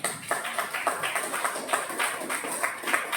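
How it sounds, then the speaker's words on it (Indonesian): A class of students claps in applause, with steady rapid hand claps close and moderately loud for about three seconds and no talking. "kasih aplaus"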